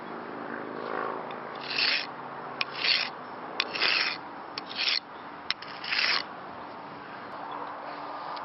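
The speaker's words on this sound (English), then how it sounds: "Now we're going to scrape this against asphalt 5 times." A knife blade scraped against asphalt in five separate gritty rasping strokes, each about half a second long, evenly spaced and close, with a few sharp ticks between strokes over a low background hum.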